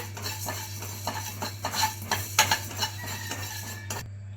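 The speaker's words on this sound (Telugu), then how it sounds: "1 స్పూన్ జీలకర్ర, 1 స్పూన్ ధనియాలు, ఇది కొంచెం ఫ్రై చేసుకుందాం." Cumin and coriander seeds dry-roasting in a pan for a spice powder for bitter gourd stew, stirred with a spoon in irregular scrapes and soft clinks, close and moderately loud, ending in near silence.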